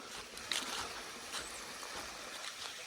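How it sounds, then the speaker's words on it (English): A small waterfall, Harvey Falls on the Foothills Trail, pours in a continuous soft hiss of falling water on a small stream, faint and steady with a few brief splashy bumps. "This is a nice little waterfall."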